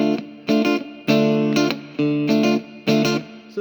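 Electric guitar, played with a pick, chugs the choppy signature rhythm of a song in loud, evenly spaced muted bursts with short gaps between them, and no one speaking.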